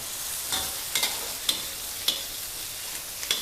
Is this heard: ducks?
no